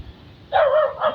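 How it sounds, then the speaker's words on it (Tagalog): A dog barks twice nearby, a sharp yelping bark followed by a shorter one, over a low outdoor background hum. "May aso, Pat."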